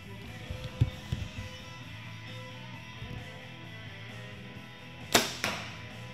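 An arrow from a Bear Archery bow is shot at a 25-yard target, with a sharp, bright impact burst and a quick second thud after it, fairly close, over quiet outdoor ambience.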